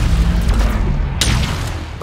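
A gunshot and booming explosion in the shooter game Halo Infinite, one sharp broadband crack landing over a steady rumbling backdrop of in-game noise.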